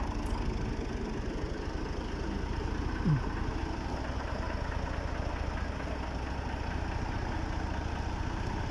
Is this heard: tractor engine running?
yes